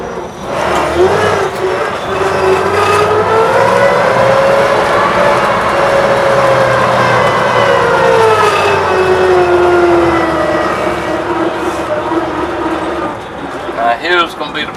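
A 1929 Studebaker House Car drives along, its engine note rising and falling in a loud, steady drone that swells and eases through the run, with a long whining tone riding over the rumble.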